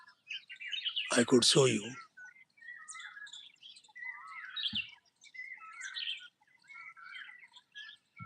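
Several small birds chirp and tweet in scattered calls at moderate distance on an outdoor nature walk, with a voice speaking briefly near the start and a soft thump midway.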